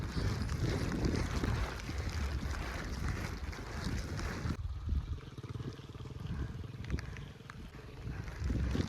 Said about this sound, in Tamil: சடனாக காற்று அதிகமாக இருக்கும்.